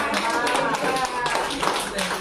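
Dense, continuous clapping from a classroom or church group gathered for a religious moderation session, steady throughout with voices mixed in underneath.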